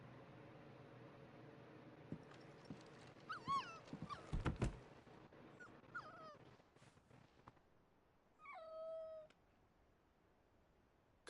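Torgal, the dog in the video game Final Fantasy XVI, gives a short run of whimpering, whining cries in the middle of a quiet in-game scene, with a higher drawn-out animal call near the end.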